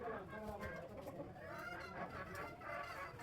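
Several chickens cluck and squawk near a pigeon coop, a busy, overlapping chatter of hens at moderate distance with a faint voice mixed in.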